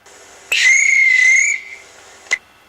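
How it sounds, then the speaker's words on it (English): A railway guard's single sustained shrill whistle blast lasting about a second, followed by a brief click, with nothing else around it. "So the guard blew his whistle and waved his green flag."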